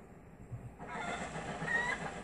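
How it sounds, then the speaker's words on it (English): A golden rooster calls in the video game The Legend of Zelda: Twilight Princess, a faint, short crowing cry rising briefly after a moment of quiet. "Golden rooster."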